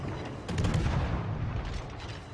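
Naval gun shells striking a submarine in World of Warships, a burst of heavy booming impacts and rumbling blasts swelling in the middle, then fading into a low lingering rumble.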